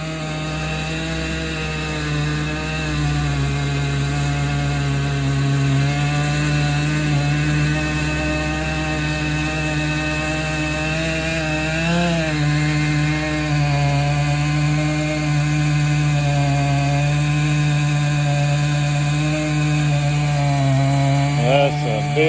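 A big chainsaw cuts through an oak tree during a tree removal, its engine a loud, continuous high whine that shifts pitch slightly as it bites, close and unbroken for over twenty seconds.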